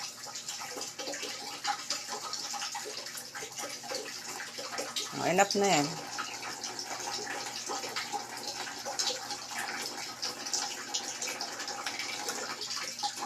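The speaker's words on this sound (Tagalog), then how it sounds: "Open mo yung gripo." A kitchen faucet runs steadily into a sink while dishes are being washed. The water hiss is moderate and constant, and a voice speaks briefly partway through.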